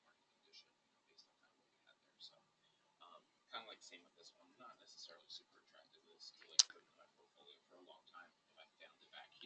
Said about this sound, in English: clicking the income tab